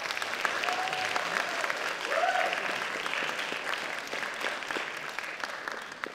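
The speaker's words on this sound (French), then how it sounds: "j'espère un tonnerre d'applaudissements pour nos sponsors" Sustained audience applause at a French cosplay contest, a dense steady wash of clapping from a crowd, loud and even for the whole stretch, with a faint voice briefly surfacing.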